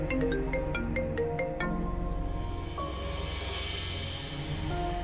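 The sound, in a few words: phone ringtone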